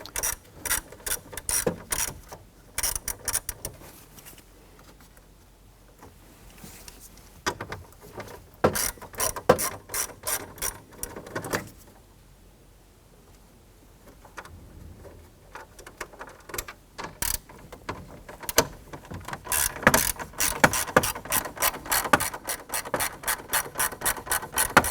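Ratchet wrench with a 9/32 socket backing out screws on a 1993-1997 Ford Ranger steering column, close and alone: rapid bursts of fine clicking separated by short pauses, growing denser and steadier toward the end.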